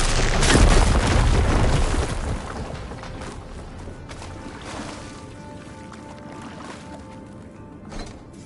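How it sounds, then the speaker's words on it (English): A loud boom bursts out as a fire gleam is blown up in the game Horizon Forbidden West, with a heavy rumbling blast for about two seconds that settles into quieter ambient game sounds and faint crackles. "Should be able to blow up that fire gleam."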